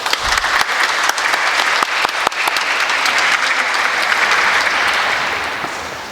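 Audience applause at a crime victims' rights week proclamation in Honolulu, a full room clapping steadily with a few sharper close claps, gradually fading toward the end.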